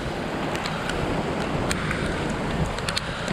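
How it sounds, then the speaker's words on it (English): Heavy rain pours down steadily during a sudden thunderstorm at an outdoor gathering, a dense, loud hiss with wind buffeting the microphone and occasional sharper spatters and crackles. "It's pouring rain."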